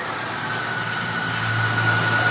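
A pressure washer runs steadily and fairly loudly, a constant motor drone with a higher whine, its level rising slightly toward the end, with no talk over it.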